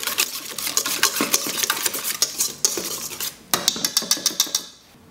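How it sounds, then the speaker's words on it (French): A spoon stirs homemade mayonnaise sauce with pickles and capers in a bowl, making rapid rhythmic scraping and clinking that speeds into quick taps before stopping, close and without talk. "On mélange maintenant la préparation."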